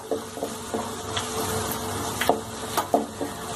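Cumin, niger seed and sesame being stir-fried in a pan, giving a soft continuous sizzle broken by irregular scraping clicks of a spatula against the metal, close and moderately quiet.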